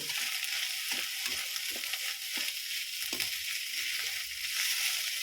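Kerupuk crackers frying in hot oil: a continuous bright, dense sizzle runs throughout, with several sharp bubbling bursts and taps, close and steady, no talk.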